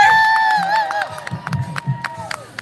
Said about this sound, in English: Another big round of applause for Heather.